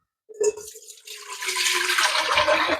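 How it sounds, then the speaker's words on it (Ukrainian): Three liters of water pour steadily into a pot for a Finnish-style cucumber marinade, a rushing splash that builds and holds, with a brief clatter at the start. "Ми додаємо 3 літри води."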